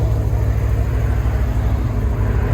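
A cammed Pontiac G8 with a 6.0L V8, long tube headers, high flow cats and a rear muffler delete idles loudly up close, its deep exhaust rumble pulsing steadily and choppily.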